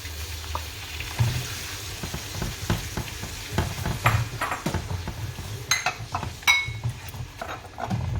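Tamarind paste hits a hot frying pan for a two-person Thai dish, giving a steady loud sizzle with scraping stirs and light clinks of utensil on pan throughout.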